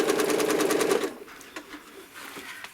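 A home sewing machine stitches along a curved quilting ruler in a fast, even burst for about a second, then stops, leaving only faint handling noises close by.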